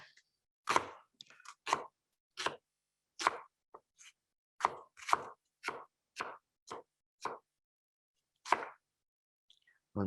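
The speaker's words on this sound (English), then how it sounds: "So I'm going to slice up half of an onion." Half an onion being sliced with a knife on a cutting board, a series of crisp, close chops in an uneven rhythm separated by quiet gaps, with no talk.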